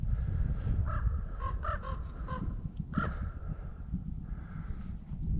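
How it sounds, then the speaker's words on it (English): Several crows caw repeatedly at a winter camping spot in Colorado, some calls overlapping, against a low rumbling background; harsh calls come in short bursts, moderately loud and fairly close. "Well, these birds are loud this morning"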